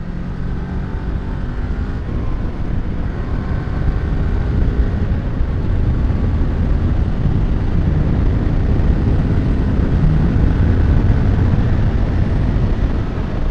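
A Kawasaki Ninja 400 KRT sport motorcycle engine while riding, a steady, loud, low engine drone mixed with wind rush, holding an even pitch throughout with no speech.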